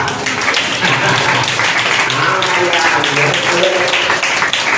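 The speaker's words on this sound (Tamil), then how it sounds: "உங்களுக்கு வந்தா தான் கைதட்டுவீங்களா?" Clapping from a congregation at a Tamil Christian training camp, mixed with voices and crowd noise, continuous and fairly loud throughout with no clear break.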